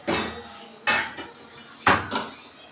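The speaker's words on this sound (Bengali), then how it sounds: "কড়াই বসিয়ে দেব" A metal kadai set down on a gas stove in a home kitchen, three sharp clanking knocks about a second apart, each with a small rattling follow-up, close and clear.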